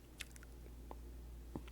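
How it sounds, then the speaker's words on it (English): Someone chewing food with a few soft, crisp bites and mouth clicks spaced out over a couple of seconds, faint and close, with no talking. "I'm much more cognizant of the sounds of my chewing"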